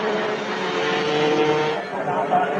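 Race cars in a 1999 Elf midday racing event roar steadily around a track, a dense continuous engine drone with a brief dip before surging again, under an announcer's commentary.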